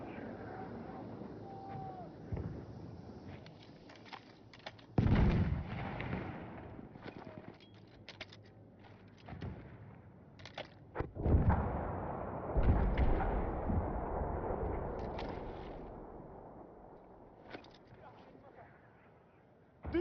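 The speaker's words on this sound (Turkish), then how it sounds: "Orada bir makinalı tüfek var." In a war video game, bursts of machine-gun fire and heavier artillery-like booms strike at irregular moments amid game ambience, while a person talks over the action.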